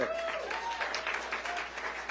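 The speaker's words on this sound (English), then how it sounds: "Did you hear the clapping and the applause to go with it?" Crowd clapping and applause, a dense steady patter of many hands at moderate distance, with a faint voice briefly rising over it.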